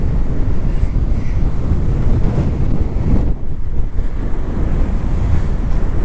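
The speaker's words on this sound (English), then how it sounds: "I don't even know how well you can hear me with this wind. It's extremely high gusty winds." Strong gusty wind on the exposed shore of Lake Albert, an inland lake, roars loudly and steadily into the microphone with surging buffets and a brief lull midway, drowning out everything else.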